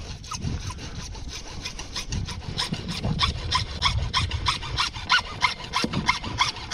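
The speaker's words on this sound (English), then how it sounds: "I like to just use my saw and cut off a little piece." A hand saw cuts a small piece off a drainage pipe for a backyard drainage basin, with fast, even back-and-forth rasping strokes heard up close throughout.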